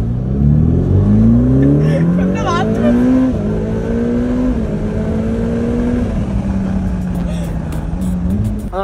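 Ferrari sports car on holiday in Jesolo revving and accelerating, a loud, rising engine note climbing through gears with brief shifts, close up, with people talking over it.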